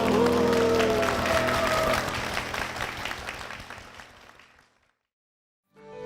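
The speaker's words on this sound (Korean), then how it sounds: "주님께 영광의 박수를 드리겠습니다." A church congregation at Pyeongtaek Seonggok Church applauding in praise, loud clapping with a held tone that fades out to silence before another sound starts.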